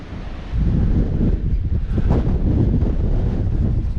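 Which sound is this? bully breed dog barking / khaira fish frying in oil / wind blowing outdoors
wind blowing outdoors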